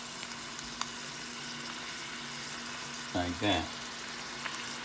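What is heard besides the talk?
stirring meat frying in a pan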